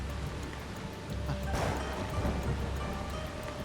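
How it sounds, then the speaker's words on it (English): Steady rain in the video game Assassin's Creed Shadows, a dense continuous wash that holds level throughout and swells a little toward the middle, with no voices over it. "Oh, I don't want to do this in the rain."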